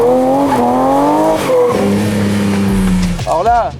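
A Ferrari Testarossa engine revs loudly and close, its tone holding, climbing and dropping through gear changes, with a speaking voice over it throughout.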